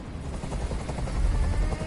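Helicopter in the video game Detroit: Become Human, a steady low rotor thrum and rumble that stays loud and close throughout, with faint crackles layered on top and no speech.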